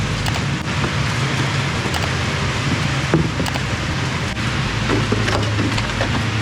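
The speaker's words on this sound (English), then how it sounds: "I'm not a fan of how much it started raining as soon as we got here" Steady, dense rain patters and hisses on the surfaces of a sailing catamaran nearby, loud and continuous, with occasional sharper drops and no voices.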